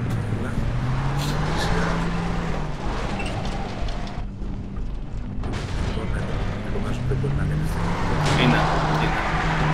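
A car driving in the video game Far Cry 3, with engine drone rising and falling under a player talking, plus bursts of rumbling game noise.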